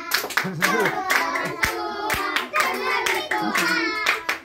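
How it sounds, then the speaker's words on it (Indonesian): Children clap their hands along with a Sunday school song at a family thanksgiving celebration, steady rhythmic claps mixed under lively singing voices throughout. "Ini gerakannya tepuk tangan ya. Dari awal sampai akhir tepuk tangan"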